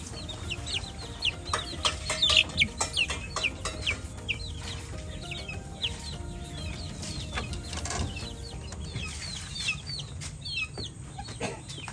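Chickens on a backyard breeding farm cluck and chatter in frequent short bursts. Several birds call at once at a moderate distance over a low outdoor background hum, with no talking.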